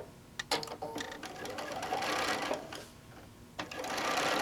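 A sewing machine runs along a quilt seam, a fast rhythmic stitching buzz punctuated by a few clicks and brief pauses, close and moderately loud throughout.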